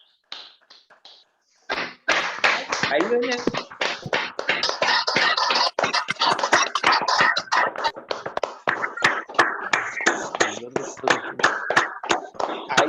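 Many participants clap together over an unmuted microphone in an online meeting, a dense, rapid patter of hand claps that starts after a brief spoken phrase and keeps going steadily, close and somewhat clipped.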